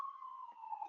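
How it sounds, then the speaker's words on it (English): Emergency vehicle siren out on a New York City street, a faint, steady wailing tone heard at a distance with no voices over it. "sorry for the sirens"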